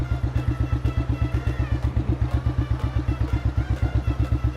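A restored 1983 motorcycle cruising in top gear, its engine thumping in a fast, even, regular beat, loud and close with no talk.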